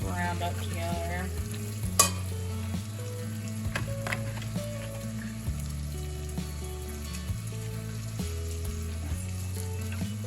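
Minced garlic sizzles and fries in a hot pan while being stirred, a steady crackling hiss under background music, with no talking.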